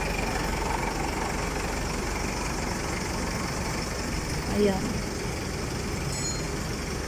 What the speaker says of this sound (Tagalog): Yung ganyan na sasakyan. Towing car.